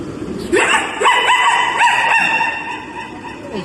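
A person imitates a dog with a run of short, yappy barks and yips, several in quick succession, fairly loud and close.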